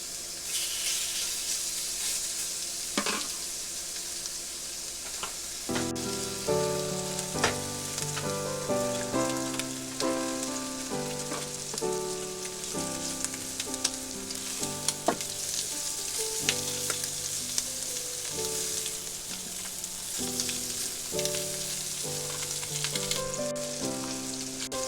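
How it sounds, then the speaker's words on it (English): Shrimp sizzle and fry steadily in a hot pan as they brown, a continuous crackling hiss with scattered louder pops and the clink of a utensil stirring, close and alone without talk. "I'm gonna put the shrimp in, but we're not completely cooking the shrimp"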